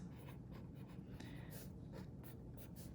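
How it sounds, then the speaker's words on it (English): Pen scratching across a reading notebook page in short, repeated strokes, close and soft over a steady low room hum, with no voices. "So on the top of this page, we're going to write books"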